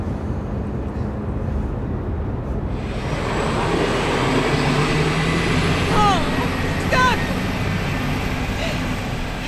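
A bus pulling away in a street, its engine rumble swelling from about three seconds on as it drives off, with squeaky air-brake hisses and squeals around six to seven seconds, all fairly loud and continuous.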